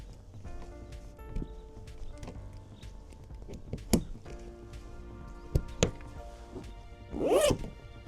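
A few sharp snaps and clicks, then a single quick zipper pull near the end, in an INEOS Grenadier, close and clear in a quiet space.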